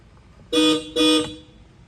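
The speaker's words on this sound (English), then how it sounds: "turn on the car, give it a honk, see how it sounds" Aftermarket Hella horns fitted to a Mazda CX3 sound two short, loud honks in quick succession, each a bright, brassy blast ending abruptly.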